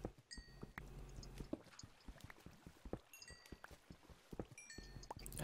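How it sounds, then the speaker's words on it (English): Water splashes and sloshes in the game Minecraft, a busy run of small clicks and wet slaps mixed with faint chimes, quiet and close with no talking. "I definitely hear something splashing about in the water."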